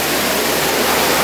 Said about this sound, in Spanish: Qué caídita de agua más chula la que hay aquí.